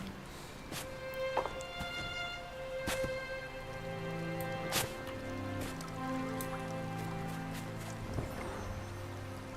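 Steady rain pattering in the video game Sky, with soft musical tones and occasional sharper drops over a constant hiss, no talk.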